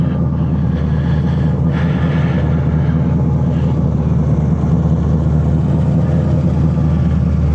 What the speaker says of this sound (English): I think I do have an exhaust leak now.